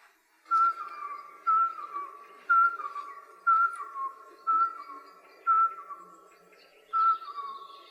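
A person whistles an imitation of the Eurasian pygmy owl's call: seven evenly spaced, clear piping notes, each short and level, repeated at about one per second in an otherwise quiet setting.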